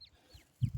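Newly hatched wild bird chicks calling, giving a few faint, thin high chirps that slide downward, spaced apart, with soft low thumps beneath them at close range.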